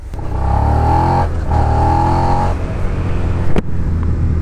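A loud Suzuki SV motorcycle engine with stock exhaust revs up and holds a high, steady drone twice, then drops back to a rough idle with a brief sharp click near the end.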